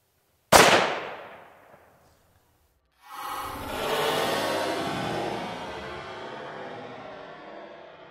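A rifle shot strikes a Firebird explosive target, giving one sharp, loud bang that decays over about a second. After a pause comes a long, rushing, fizzing burn that slowly fades.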